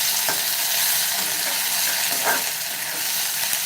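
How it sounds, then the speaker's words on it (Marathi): Potatoes sautéing with onions in a hot pan, a steady close sizzle with a few stirring scrapes mixed in. "बटाटा चांगला असं कांद्यामध्ये आपल्याला परतून द्यायचं आहे"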